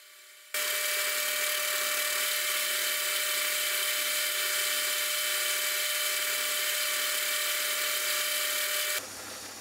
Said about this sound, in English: I'll always make use of a cordless drill to speed things up